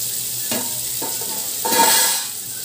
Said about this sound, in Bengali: পোস্ত দিয়ে ভালো করে কুমড়োর সাথে মিশিয়ে দিচ্ছি